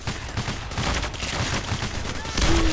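Sentry turret in Payday: The Heist firing nonstop, a dense, loud rapid-fire gunfire barrage that swells louder near the end, with faint game sounds mixed in.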